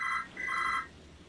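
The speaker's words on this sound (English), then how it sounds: "There goes the phone again." A telephone rings in the background of a MotoGP management game session, two bursts of bright electronic trilling in quick succession, fairly loud and alone without talk.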